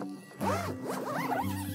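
Zipper drawn shut on a Generation 3 Connect tree tent, a near, continuous rasping zip lasting over a second, with faint voices or tonal sounds running underneath.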